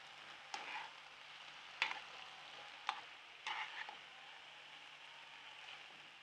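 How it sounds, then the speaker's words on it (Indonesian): Stir-fried rice vermicelli with celery, scallion and sweet soy sauce sizzles steadily in a pan, with a few sharp scrapes and clacks of the stirring utensil at intervals. "sekarang kita aduk sampai tercampur rata"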